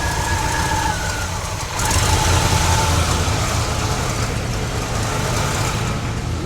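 A 1969 GMC truck engine idles loud and close, a steady rumbling drone that rises slightly in intensity partway through and holds there.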